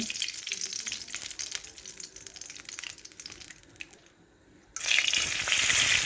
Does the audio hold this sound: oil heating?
yes